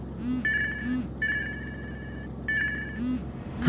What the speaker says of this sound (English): Wait, who's calling me on Signal?